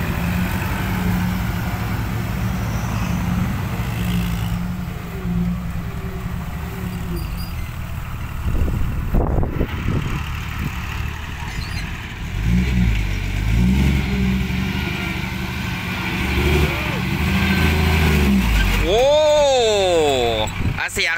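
A powerful long-nose truck engine idles and revs in rumbling surges outdoors, loud and close, with people talking over it throughout.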